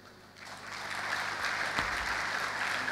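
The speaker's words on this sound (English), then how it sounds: "Can we please applaud him again and again and again?" A university Founders' Day audience breaks into applause that swells quickly after a brief lull, then holds as sustained, crowded clapping heard from some distance.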